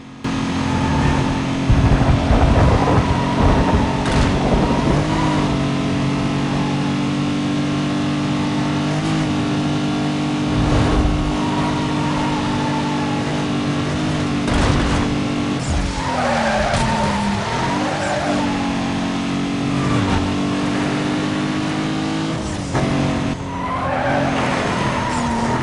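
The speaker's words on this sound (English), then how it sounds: "The rubber's burning, the engine's screaming" A street-race car in the Need for Speed Most Wanted video game revs hard while its tires skid and squeal through repeated slides. The loud, sustained engine drone dips and surges throughout, with no talking.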